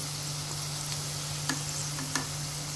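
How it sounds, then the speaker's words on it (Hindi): Medu vada deep-frying in hot oil over a high flame make a soft, constant crackling sizzle with a low steady hum beneath and a couple of sharper pops, heard fairly quietly with no talk. "हाई फ्लेम पे गोल्डन कलर आने तक हम इसे फ्राई कर लेंगे"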